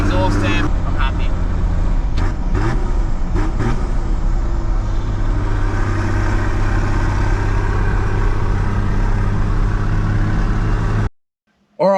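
An old 1980s car running after an engine swap, its steady engine drone and road rumble loud and continuous from inside the cabin, with a few knocks early on, before cutting out near the end.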